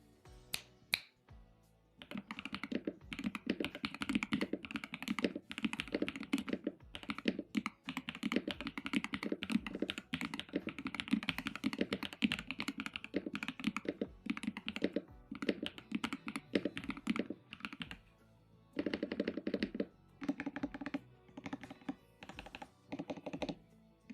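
Steady typing on an HE Venom60 mechanical keyboard with PBT keycaps, a continuous run of crisp, thocky keystrokes and occasional spacebar thuds, close-up and alone for over twenty seconds.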